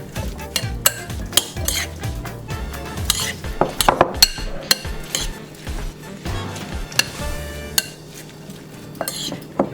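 A spoon stirs and clinks against a bowl while pico de gallo ingredients are mixed during a cooking competition, with rhythmic scraping and sharp metallic taps, fairly close and alone without talk.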